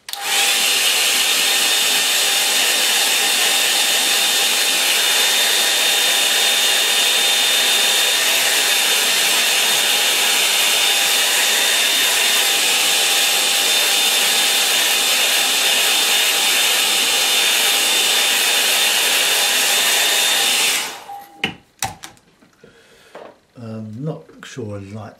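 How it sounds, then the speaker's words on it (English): A hair dryer blows loudly and steadily in a room where calligraphy and painting are being done, then cuts off abruptly near the end, followed by brief clatter and a voice speaking. "the dryer in a moment."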